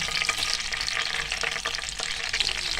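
Cumin seeds crackle and sizzle in hot oil in a frying pan, a dense, steady hiss with fine popping throughout, close and loud, with no voices.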